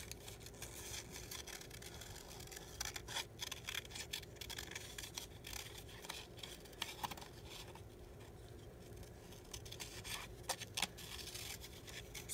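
Scissors snip through paper while fussy cutting glasses shapes for a travelers notebook insert, making soft, irregular close-up cuts and rustles, fairly quiet and steady with no voices.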